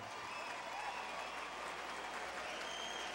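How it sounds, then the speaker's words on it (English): A large crowd at a fight event applauding the two fighters after the decision, a dense, even wash of clapping that holds at steady volume throughout. "let's give these 2 fighters a tremendous round of applause."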